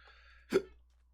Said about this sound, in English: I got the hiccups.